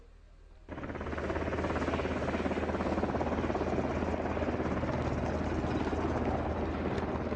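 A helicopter arriving at Camp Bastion field hospital, its rotor thuds and engine roar swelling in suddenly and holding steady and loud, a dense continuous drone close by.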